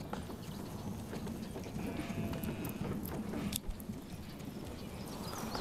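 Horses clip-clopping in Manor Lords, a quiet series of hoof knocks over low game ambience, with no talking.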